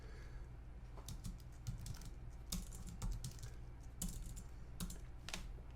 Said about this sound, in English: I would type in Teddy Burris's email address